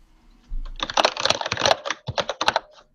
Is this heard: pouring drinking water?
no